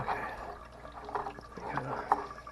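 Water draining out of a GE electric hot water heater during a heating element change, a quiet irregular gurgle and splash with small drips and sloshes, no talking.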